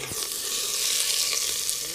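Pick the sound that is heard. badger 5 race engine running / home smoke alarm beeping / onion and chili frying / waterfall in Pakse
onion and chili frying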